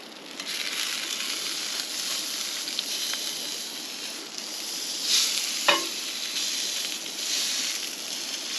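Brown trout fillet frying in a pan, a steady loud sizzle throughout, broken midway by a brief clatter and a scrape as the fish is flipped.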